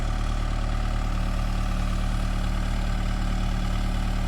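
A Case 580E Construction King tractor-loader-backhoe engine idles steadily nearby, a loud, even low rumble with constant vibration running unbroken throughout, in a backyard during tree removal.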